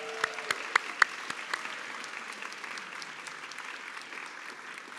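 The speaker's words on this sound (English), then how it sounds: "Now we can applaud this." Applause ripples through the audience at a nonprofit grantee showcase event, a moderate, fairly distant patter of many hands with a few sharper claps near the start, fading slightly toward the end.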